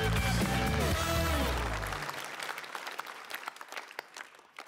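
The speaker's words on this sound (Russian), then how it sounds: "аплодисменты звучат для вас" Studio audience applause at a televised improv comedy show, loud and dense at first, then thinning into scattered claps over a few seconds.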